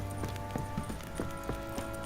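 Horse hooves clip-clop in The Witcher 3 video game, a steady run of roughly seven evenly spaced thuds over a constant low game hum, fairly close and moderately loud.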